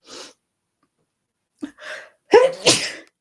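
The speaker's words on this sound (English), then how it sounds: "I've got a sneeze about to come" A single loud sneeze up close, preceded by a couple of quick sharp inhales in an otherwise quiet room.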